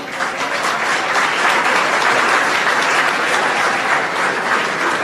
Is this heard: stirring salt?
no